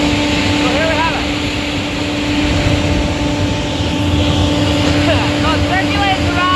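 A corn grain dryer running, its auger circulating the corn through hot air: a loud, steady mechanical drone with a constant hum, and faint voices now and then over the machinery.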